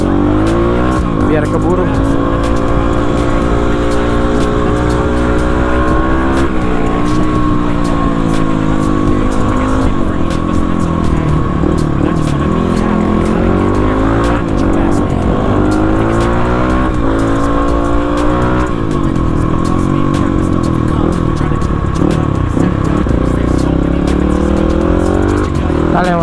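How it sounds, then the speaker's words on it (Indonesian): A Yamaha WR155 motorcycle engine roars continuously nearby through its exhaust, pitch rising and falling as it accelerates through gears in traffic, with someone talking over it. "enak ini suara knalpot aing kita harus mode ngebut"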